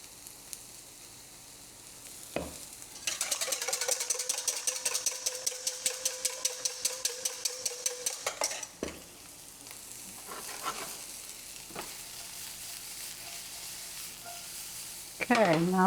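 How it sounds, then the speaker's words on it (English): Onions frying toward golden caramelization in a pan, a soft steady sizzle with a burst of rapid rhythmic tapping near the start, then occasional clinks and stirring sounds. "We want to caramelize a little bit, nice and golden cooked onion"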